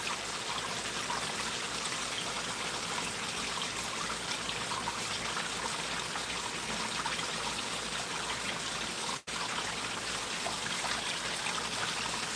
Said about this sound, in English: See it coming down from the waterfall.